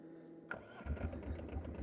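A Polaris Diesel 455 UTV engine cranks and catches with a sudden burst, then settles into a loud, steady diesel idle with a low rhythmic chug, close by.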